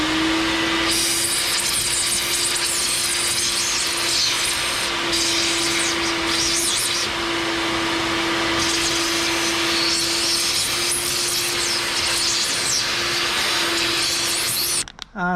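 A 1.5 horsepower shop vac cleans a Lasko oscillating floor fan, a loud, constant motor whine with a steady tone and rough airflow rushing over it, running alone until it cuts off at the end.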